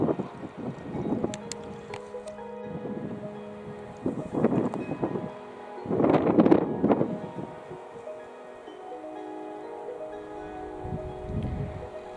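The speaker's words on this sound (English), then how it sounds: "It's awfully windy." Wind gusts rumble against the microphone in uneven surges, swelling strongest midway, with steady background noise and no talking.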